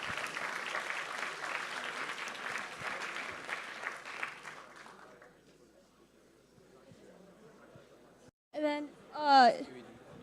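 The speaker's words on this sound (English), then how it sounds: "let's give them a round of applause" Audience applause at a TreeHacks 2024 hackathon closing ceremony: a dense round of clapping for about five seconds that fades out, followed by a short burst of speech near the end.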